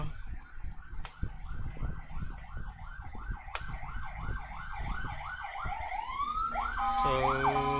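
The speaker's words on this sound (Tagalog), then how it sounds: "may dumadaan na pulis." A wailing police car siren passes by, its repeated rising and falling sweeps loud and close, then shifting to a different wail pattern near the end, with a brief word spoken over it.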